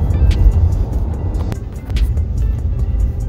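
A car drives along a road with a steady low engine and tyre rumble running continuously and fairly loud, with no talk over it.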